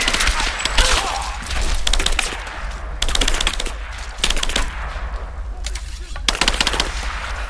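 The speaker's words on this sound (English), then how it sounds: "I'm under fire!" Bursts of automatic gunfire in the game Rise of the Tomb Raider, in a geothermal valley, with several loud rapid volleys separated by short pauses.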